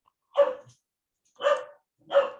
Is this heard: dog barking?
yes